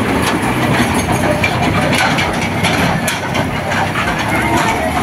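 A tractor engine runs steadily at an outdoor adventure base in Dharwad, Karnataka, where children learn to drive; a constant rumbling drone with light rattling carries through without a break.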